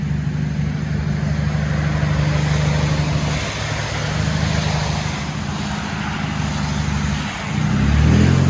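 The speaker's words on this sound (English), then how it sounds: "Hyundai Veloster straight pipe." A straight-piped Hyundai Veloster with a steady engine drone heard from inside the car, loud and continuous, swelling slightly near the end.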